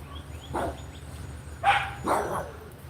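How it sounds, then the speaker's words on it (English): A neighbor's dog barks at a squirrel next door, a few sharp, moderately distant barks and yips spaced irregularly over quiet backyard ambience. "That's the neighbor dogs yelling."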